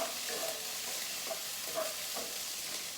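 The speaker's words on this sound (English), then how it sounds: "Now I'm just gonna go ahead and toss in my chicken. And give that a little stir" Chicken frying in a pan with leftover homemade bread nearby, a steady close sizzle and hiss with a few soft stirring scrapes.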